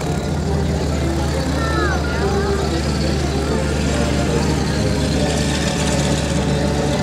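Steady, loud drone of a 450 horsepower aircraft engine idling at an air show with a wing-walking biplane act, continuous rumble throughout with people talking over it.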